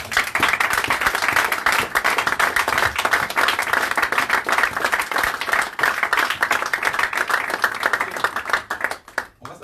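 A church congregation claps and applauds Jesus Christ with loud, dense, sustained clapping that fills the room almost throughout, easing off briefly near the end.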